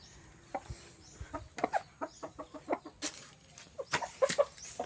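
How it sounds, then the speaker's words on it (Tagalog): Backyard chickens cluck in a steady scatter of short, close calls, several hens overlapping irregularly with occasional louder squawks against a quiet outdoor background. "Yan yung isa ka manok ko."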